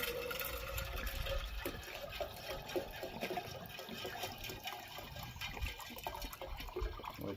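Pond water pours steadily through a cut-off plastic water bottle used as a funnel into a container, making a continuous, fairly quiet gurgling and trickling rush outdoors.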